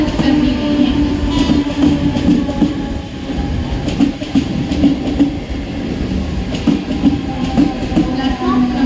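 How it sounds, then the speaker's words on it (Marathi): Mumbai local train, the 10:51 slow service to Kalyan, standing at platform 1 of a busy station, with a steady loud rumble and faint rail clatter throughout and station noise around it. "प्लॅटफॉर्म क्रमांक 1 पर आई हुई लोकल 10:51 की कल्याण जाने वाली धीमी लोकल है।"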